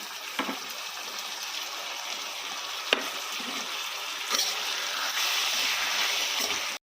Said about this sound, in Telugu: ముల్లంగి వేగిన తర్వాత కట్ చేసుకున్న టమాటాలు కూడా వేసేద్దాం.